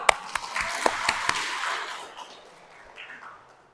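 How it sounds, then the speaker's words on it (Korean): Applause from a church congregation during a Catholic parish homily, with a burst of claps that fades out over a few seconds. "박수"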